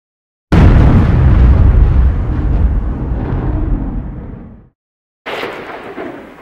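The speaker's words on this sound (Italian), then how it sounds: "Faccio ancora una decina di colpi con la M1" A Chiappa M1-9 carbine fires outdoors: one loud sharp report with a long rumbling echo that fades over several seconds, then a brief silence and a second shot.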